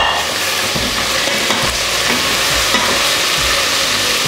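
Soaked rice is turned through fried onions in a pot, making a loud, dense, continuous frying hiss with steady scraping stirs close by.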